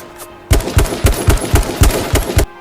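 Rapid automatic gunfire rings out in a first-person shooter game: a loud, close string of about eight evenly spaced shots across two seconds, with no talking.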